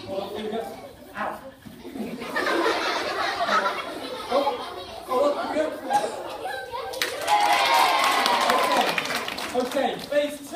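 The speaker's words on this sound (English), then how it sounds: "Big cheer from the audience when it's up over the head, or out." An audience at an escapology show cheering and clapping, a crowd's chatter building into a broad, sustained burst of applause and cheers toward the end, with voices throughout.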